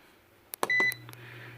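A food dehydrator gives a short electronic beep and a couple of clicks as its on button is pressed, then a low steady hum as the machine starts, close by and quiet.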